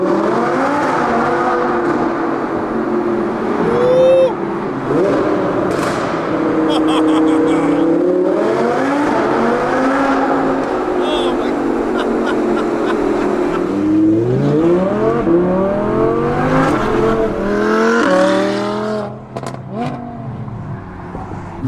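Audi R8 V10 Plus fitted with a new, very loud aftermarket exhaust drives through a tunnel, engine roaring continuously and revving up and down with sharp rises and falls throughout, close and loud.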